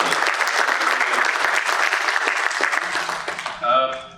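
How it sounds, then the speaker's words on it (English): A crowd at an SME manufacturers and exporters summit inaugural session claps in a full, steady round of applause that holds then fades near the end, with a voice breaking in as it tails off. "So, big round of applause for all of you."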